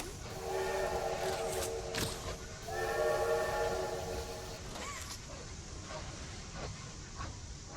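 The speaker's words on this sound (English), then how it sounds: "Well, duh, it's a train. All trains have a whistle. That's why it's called a train whistle." A train whistle in the video game Poppy Playtime sounds twice, each a sustained multi-tone blast over a steady rumbling train background, with fainter clanks trailing off afterward.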